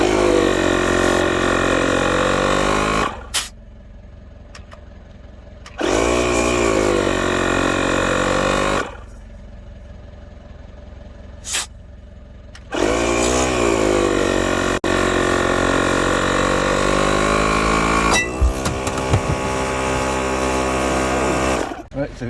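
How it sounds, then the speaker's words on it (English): A Halford's digital tyre inflator forces the piston out of a front brake caliper from a 2010 BMW 318i: a loud, buzzing motor runs in long stretches, cutting out and restarting several times with short quiet gaps between. "Using the Halford's digital tyre inflator to take out the piston on a brake caliper."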